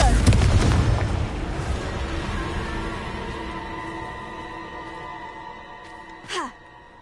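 A fire-spell blast in Hogwarts Legacy goes off loudly at the start, then rumbles and fades into lingering tones, with a smaller burst near the end.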